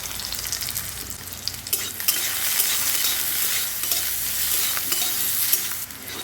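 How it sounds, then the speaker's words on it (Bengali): Small eggplant pieces frying in hot oil with turmeric and salt, a steady loud sizzle with occasional stirring scrapes and crackles throughout, no voices. "এখানে আমি অল্প পরিমাণে হলুদ আর লবণ দিয়ে এটাকে ভালোভাবে ফ্রাই করে নেব।"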